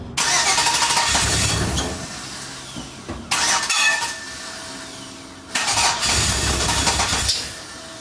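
A 1955 Ford truck engine being started after sitting for 28 years, with long loud cranking and sputtering bursts that catch and rumble unevenly, repeating in several rough attempts close up.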